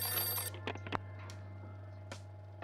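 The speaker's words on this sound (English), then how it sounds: "The phone suddenly rang on the evening of September 11th." A telephone in the game For the People rings with a short electronic trill at the start, followed by a few faint clicks over a steady low hum.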